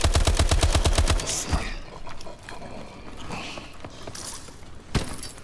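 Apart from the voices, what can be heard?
gunfire in Call of Duty Advanced Warfare Exo Zombies video game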